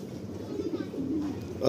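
Soft, low cooing from a male Kalanka flying pigeon murmurs continuously through a short stretch, fairly close, with a slight rise at the end.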